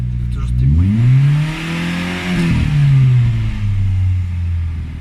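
A Renault Megane RS engine runs cold at a high idle, the exhaust droning loudly close by and swelling and dipping in pitch as revs rise and fall, with a brief rattle near the start.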